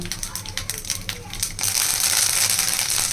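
Curry leaves dropped into hot oil while cooking Andhra-style greens, a sudden loud crackling sizzle that swells midway, following a voice talking.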